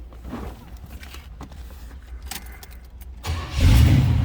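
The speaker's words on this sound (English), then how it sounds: "Let's go ahead and fire this up." Quiet rustling and jangling, then a 1969 Pontiac Firebird Convertible engine with MagnaFlow exhaust turns over and catches into a loud, deep rumble at the end.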